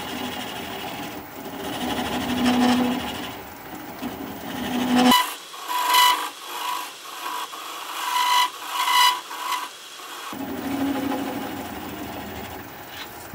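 Wood lathe turning a barrel-shaped piece with a bowl gouge at about 400 RPM, a steady scraping, rasping cut near and alone, with an uneven pulsing rhythm and a harsher middle stretch as the tool bites deeper.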